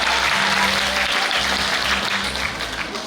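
Applause from an audience at an Indonesian academic forum on Korean studies, a brief burst of many hands clapping at once, loud and continuous with no voices over it.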